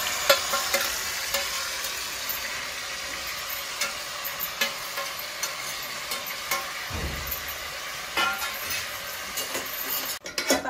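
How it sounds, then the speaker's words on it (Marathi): Chicken curry masala for a village-style black rassa sizzles in oil in a pan while a spoon stirs and scrapes it, giving a steady close frying hiss with repeated light clinking strokes and no talk. "आता आपण आहे ना त्याला छान हलवून घ्यायचं। मस्त हलवून घ्यायचं"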